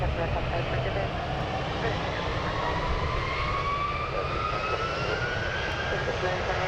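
Jet airliner taking off from runway 1 right at San Francisco International Airport, a loud, steady broadband engine roar with a rising turbine whine throughout.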